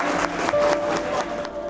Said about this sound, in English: Guys, where's the clapping? Seems like I have to make you clap.